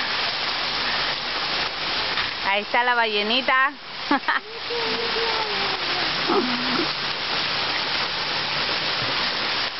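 Steady rain falling on a backyard swimming pool and surrounding trees, a dense unbroken hiss throughout, with someone speaking and a child vocalizing over it.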